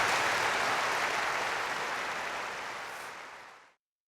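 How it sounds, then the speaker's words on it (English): An audience breaks into loud, dense applause that holds steady for a few seconds before tapering off and stopping abruptly. "Go ahead, applaud."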